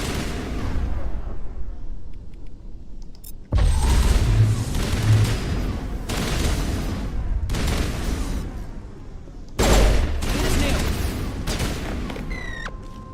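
Heavy gunfire in the video game Mass Effect: two loud sudden bursts of shots, each trailing into sustained rattling fire, with game ambience between them.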